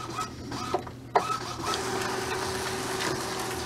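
An Epson WF 2750 inkjet printer feeds and prints a page: a few mechanical clicks and a clunk, then a steady whirring print-head drone, close and moderately loud.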